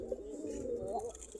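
Desi Giribaj pigeons perched by their coop coo softly and continuously, a low warbling murmur that carries on through the whole short stretch at close range.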